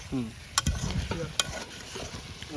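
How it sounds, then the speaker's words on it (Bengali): Chicken kosha is stir-fried in a pan in a village kitchen, with a constant sizzle broken by sharp spatula scrapes and clacks against the pan, close by. "আমাদের কষার পদ্ধতি চলছে, এখন কষতে থাকি।"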